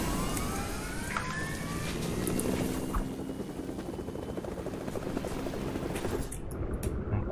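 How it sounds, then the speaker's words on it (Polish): Helicopter in the Fortnite video game, a continuous broadband rotor whoosh and rumble at moderate level, steady throughout with no talk over it. "Jest tam helikopter."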